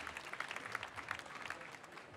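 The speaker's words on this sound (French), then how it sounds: "Vous pouvez applaudir quand même" Faint applause from an audience at a coffee cup-tasting semi-final competition, a steady patter of clapping with no talk over it.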